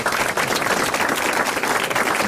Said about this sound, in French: Vous allez applaudir monsieur Laclos, qui a bien mérité les grosses têtes.